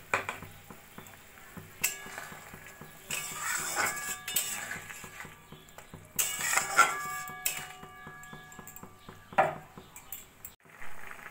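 Fried prawns go into a simmering mustard-paste curry in a pan, bringing a steady bubbling sizzle with clinks of a utensil against the pan and occasional stirring scrapes, close and moderately loud.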